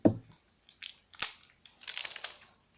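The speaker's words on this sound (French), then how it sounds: "Je vais découper." Scissors snip open the small packaging of a Labello lip balm, giving a few short, crisp cuts and rustles close up, with no talking.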